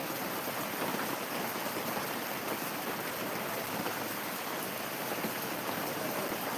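Dense rain patters steadily and evenly, a continuous close hiss with no voices.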